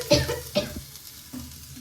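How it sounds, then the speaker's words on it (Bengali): A cauliflower, potato and pea curry cooking in a pan: two short stirring scrapes near the start, then a quieter low simmer with one more soft stir, and no speech. "এখন আমি রান্না করছি, আলু আছে আর এদিকে হয়েছে ফুলকপি আলু আর মটরশুঁটিতে তরকারি"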